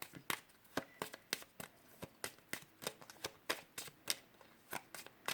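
Tarot cards are shuffled close up in a quick, regular run of crisp riffling slaps, about two per second, with no talking.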